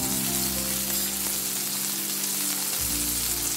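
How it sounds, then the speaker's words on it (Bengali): Marinated beef fries gently in a pan over a low flame, giving an even, close hiss of sizzling oil that runs unbroken for a few seconds with no talking. "এখন আমি চুলোর ফ্লেমটা লো রেখেছি। আস্তে আস্তে এটা ভেজে তুলবো।"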